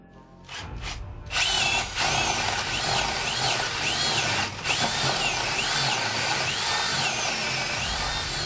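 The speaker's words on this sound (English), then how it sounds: "Now it's time for a 22mm spade bit." A Bosch 12V brushless Flexiclick drill in high-speed mode bores with a 22mm spade bit, starting with a few short bursts and then running as a loud, steady, close whine with cutting noise and slight changes in pitch.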